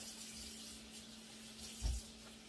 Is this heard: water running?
yes